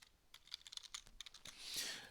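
Rapid typing on a computer keyboard, soft close clicks in an irregular burst with a brief swish at the end, quiet and with no voices.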